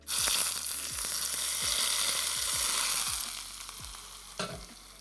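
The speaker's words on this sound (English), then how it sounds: "the oil kind of cooks the spring onion and forms the sauce, and there's a nice little sizzle involved" Hot sesame oil sizzles loudly and continuously over spring onions in a one-pot rice dish, with a series of regular soft taps from stirring and a brief clunk near the end.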